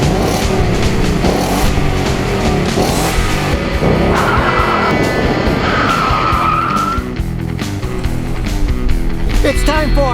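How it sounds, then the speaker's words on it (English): A car engine revs hard with tire squeal and skidding, like racing action, loud and close throughout with a dense, continuous roar. "Rev up your engine!"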